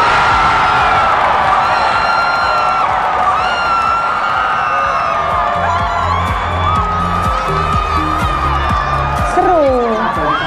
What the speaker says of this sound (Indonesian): Ya saking serunya kita jadi teriak-teriak gitu.